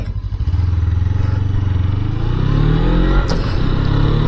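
A 250cc motorcycle rated at 26 horsepower rides through traffic, its engine droning loud and close with a rising pitch as it accelerates, plus a brief clatter near the end.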